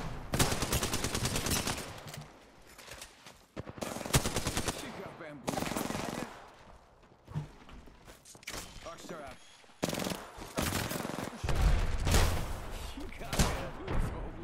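Bursts of automatic gunfire in an Apex Legends match, several loud rattling volleys broken by short gaps and a few heavy thumps, with voices talking in between.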